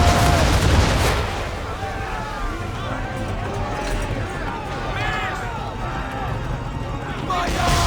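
Ship cannons fire in a heavy rumbling barrage during an Assassin's Creed III naval battle, booming under shouted crew voices, wind and sea noise.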